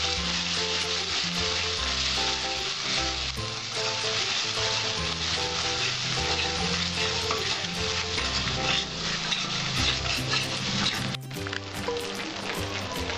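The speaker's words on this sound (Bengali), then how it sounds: "আমার মশলাটা কষাবো।" Spice paste sautés with a little water in a pan, producing a loud, dense, continuous sizzle and bubbling throughout with no let-up.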